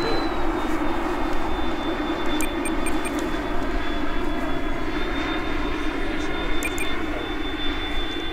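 RC Boeing 787 model airliner flying in to land, a steady droning engine whine held loud and constant throughout, with a faint tonal whistle riding above it.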